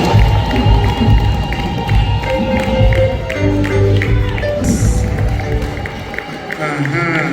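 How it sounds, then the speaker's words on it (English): Wedding guests in a church break into loud, continuous clapping and cheering, a dense crowd sound with voices shouting throughout. "Every hand clap."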